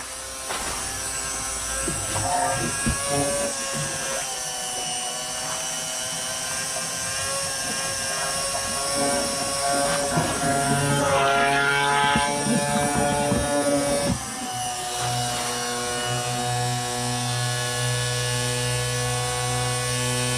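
A homemade electric diesel fuel pump runs with a loud, steady electric whine and hum throughout, its pitch shifting slightly as the load changes, with a brief dip near the end.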